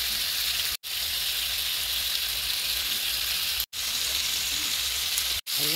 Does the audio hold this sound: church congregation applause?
no